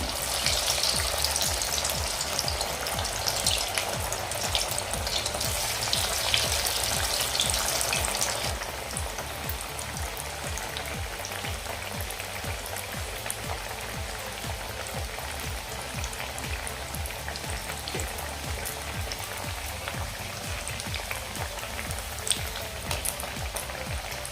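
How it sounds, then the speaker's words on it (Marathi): Palakvadi, spinach gram-flour rolls, frying in hot oil, with a steady dense sizzle and crackle throughout, louder and brighter in the first few seconds, then settling to an even bubbling hiss with no talking. "तळून घेऊया अलगद आपण या तेलामध्ये सोडायचं आहे"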